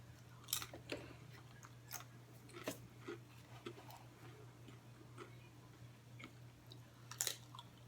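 Crunchy Tostitos tortilla chips chewed close to the mic, a quiet scattered series of sharp crisp crunches and bites over faint background hum.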